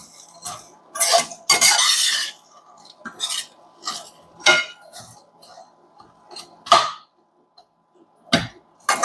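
Noodles being roasted in a pan are stirred with a utensil, giving irregular close metallic scrapes and clinks separated by short quiet gaps.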